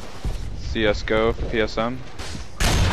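A gun in Left 4 Dead on Xbox 360 fires a single loud, sharp burst right after a short stretch of talking.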